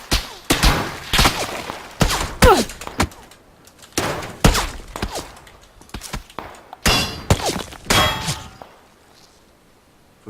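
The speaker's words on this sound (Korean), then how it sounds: "양쪽에서 양쪽에서 쏜다" Sharp, loud bursts of gunfire strike from both sides in a multiplayer battle royale shooter game, mixed with metallic clangs and impacts that come in rapid clusters throughout.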